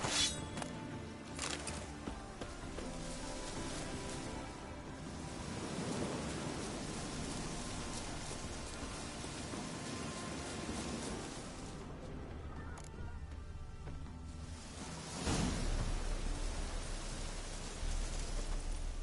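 Steady rain hisses throughout with rolling thunder rumbles in the video game The Witcher 3, a louder crack and swell of thunder near the end.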